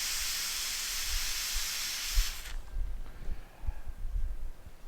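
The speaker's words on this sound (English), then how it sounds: "give it a healthy dose of steam." A strong jet of steam hisses onto a pressed cane chair seat for about two seconds, then cuts off, leaving faint low handling noises.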